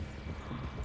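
Horse hooves clip-clopping in Red Dead Redemption 2, a steady muffled trot close by over low rumbling ambience, with a brief hint of a whinny.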